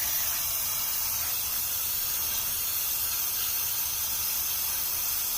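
Cleaner hisses steadily from a spray can into an engine part of a 1975 Ford F-250 4x4 truck, a close, continuous, even spray with no pauses.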